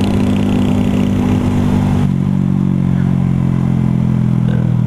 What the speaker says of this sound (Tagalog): Backfire pa rin tong motor ko.